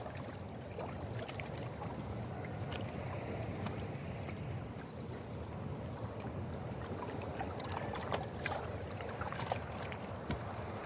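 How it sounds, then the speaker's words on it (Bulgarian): A boat drifts toward another boat on open water, with a constant wash of lapping water and wind and a few small knocks and splashes close by. "Тук дрифваме, лодката се приближава към другата."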